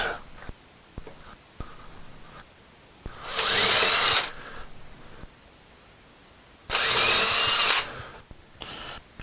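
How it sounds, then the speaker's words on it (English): Two loud bursts of a power drill drilling screw holes for mounting a bathroom mirror, each lasting about a second, with light tapping and handling noises in between. "We're going to drill those out."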